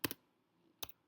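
Two quick bursts of typing on a computer keyboard, a pair of clicky keystrokes then another pair after a short pause, close and quiet.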